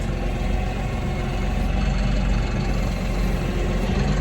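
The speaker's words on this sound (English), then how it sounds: "Get this tractor picked up a little bit" A tractor engine runs steadily nearby, a low rumbling drone without a break.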